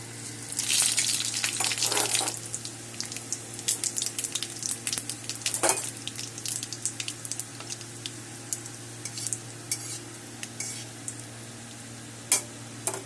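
Bay leaf, dried chilli and whole cumin crackle in hot oil for a Bengali ash gourd ghanta, starting with a brief burst of sizzling that settles into scattered quiet pops and spatters over a low steady hum.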